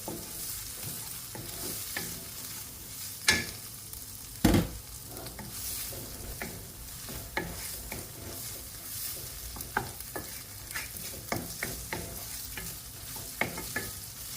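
Leftover boiled beef chunks and potatoes tossed and stirred in a hot pan, a steady low sizzle broken by scraping spatula strokes and a couple of sharper clanks, with no talking.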